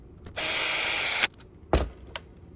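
A power drill drives screws into a shotgun underbarrel grip, one long steady whirring burst followed by two short bursts, close and loud with no talking.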